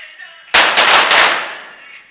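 A 25m women's pistol shooting competition at university games: a sharp close shot followed by several more rapid reports in quick succession, with echoing decay and faint background hum.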